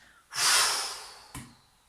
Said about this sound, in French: Et à l'expire, je dégage.